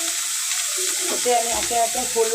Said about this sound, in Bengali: দিয়ে ভালো করে পেঁয়াজটা কষিয়ে নেব।